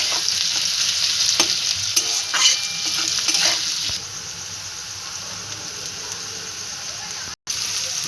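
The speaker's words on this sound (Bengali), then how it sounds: "পেঁয়াজটা একটু লাল লাল করে ভেজে নিচ্ছে" Onions frying toward reddish brown sizzle loudly in a pan while a utensil stirs them with scraping strokes; the sizzle settles quieter midway and cuts out for an instant near the end.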